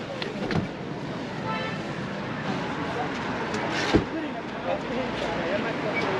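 A car drives through city traffic in Islamabad, Pakistan, heading to F10 Markaz: steady road and engine rumble with wind noise, a few faint horn toots and one brief thump, with people talking quietly inside.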